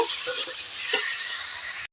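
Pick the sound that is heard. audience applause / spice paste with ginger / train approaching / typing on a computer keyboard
spice paste with ginger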